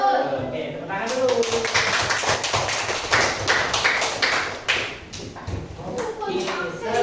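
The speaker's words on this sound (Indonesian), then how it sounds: "Oke, tepuk tangan dulu." A class of fourth-grade children clapping hands together in a classroom, a dense burst of rapid claps lasting several seconds, with a voice speaking before and after.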